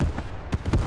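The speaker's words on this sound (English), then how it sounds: "MG42." An MG42 machine gun in the World War II shooter Squad 44 fires a short, sharp burst of cracking shots amid loud battle noise.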